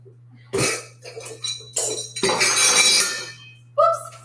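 A kitchen scale is moved about on a counter during home baking, giving a few clanks and clinks in short bursts with a low steady hum beneath.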